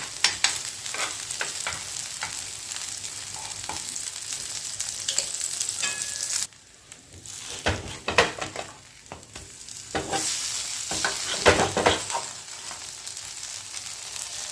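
Toast frying in ghee in a pan for dahi toast, crackling and sizzling steadily with scraping stirs and clinks from a utensil, close and moderately loud, with a brief quieter gap midway.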